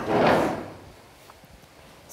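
A door opens in an underground site: one close, broad scraping swing at the start that fades into quiet room tone with a few faint ticks.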